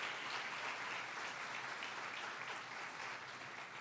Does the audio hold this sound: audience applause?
yes